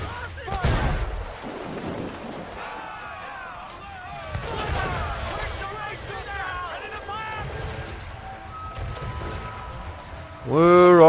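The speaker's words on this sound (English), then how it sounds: "And there's a storm coming!" A thunderstorm rolls over the sea in Assassin's Creed IV Black Flag, with a heavy thunder crack at the start and a continuous rumbling wash of storm noise throughout, mixed with ship and combat sounds and ending in a loud swell.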